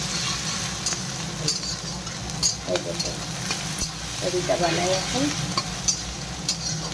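Onion, garlic and green chilli sizzle and fry in a wok while being stirred, a steady close crackle with occasional utensil scrapes and clinks as someone speaks briefly over it.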